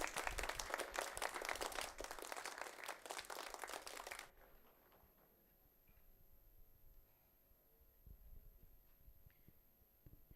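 Applause from the audience at a university conference inaugural ceremony, as a sapling is presented to a guest of honor: dense, loud clapping for about four seconds that stops abruptly, leaving a quiet room with faint hum and scattered ticks.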